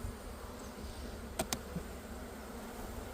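Honey bees buzzing around an open hive during a beekeeping inspection: a steady, low insect drone fills the scene, with two brief sharp clicks partway through and no talking.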